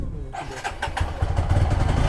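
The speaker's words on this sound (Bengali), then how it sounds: "গাড়িটা একটু স্টার্ট দিয়ে রাখি" A motorcycle engine is started after sitting out overnight in cold, foggy weather in Sajek, near Lusai village. A brief cranking whir catches into a steady, rapidly throbbing idle that grows louder, up close.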